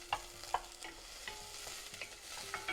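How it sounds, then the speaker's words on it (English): Chopped onion frying in olive oil in a pan, with a soft steady sizzle and a few distinct scrapes of stirring, fairly quiet and with no voices. "Okay, the onion is ready to go in. All right, stir that in."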